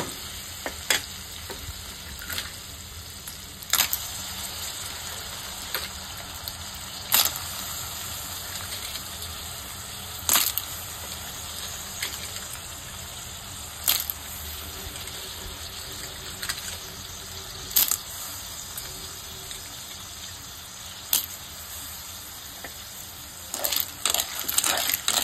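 Clams stirred into masala paste frying in oil for a Goan-style dry shellfish dish, giving a steady close sizzle with repeated sharp scrapes and clacks of a spoon through the pan.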